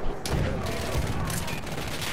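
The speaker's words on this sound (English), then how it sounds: "Machine gun." Dense, rapid machine gun fire rattles continuously through a tank battle video game, a loud close fusillade with distant booms behind it.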